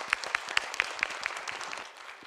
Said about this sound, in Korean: 여러분 이걸 박수로 맞이하겠습니다.